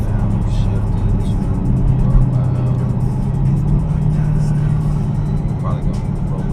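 A 2016 Dodge Challenger R/T ScatPack driving on a road, its low engine rumble rising in pitch through a gear and easing after the shift, with a person talking over it.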